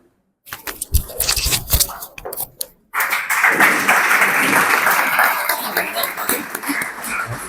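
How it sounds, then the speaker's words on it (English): Round of applause at a Jashan ceremony: scattered claps at first, then a full burst of sustained clapping from a crowd that holds and slowly thins. "with a round of applause, you all have anyway said my last statement"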